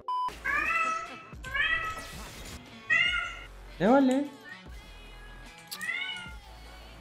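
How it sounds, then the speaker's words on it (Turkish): A house cat meows repeatedly indoors, about five distinct drawn-out cries spaced a second or so apart, loud and close, with a person speaking briefly between them. "Ben anlamıyorum bu kediyi. Susmayacaksın değil mi böyle?"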